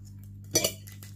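Cutlery cutting lunch on a plate in a hotel quarantine room, one brief scraping clink against the dish over a low steady hum.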